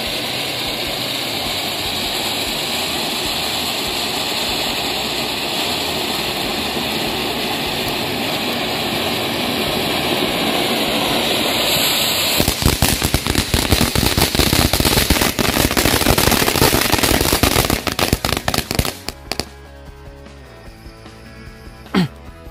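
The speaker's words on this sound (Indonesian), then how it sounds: "Lanjut kita nyalain mercon air mancur jumbo." A jumbo fountain firework roars and hisses continuously outdoors, then turns into a loud, rapid crackling burst before cutting off abruptly, leaving quieter scattered pops.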